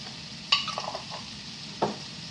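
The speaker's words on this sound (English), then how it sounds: "Now it's time to fry my meat." Seasoned meat fries in a pan with a steady, close sizzle, broken by a couple of scraping stirs, and no one speaks.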